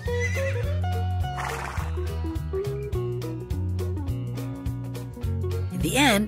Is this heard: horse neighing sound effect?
yes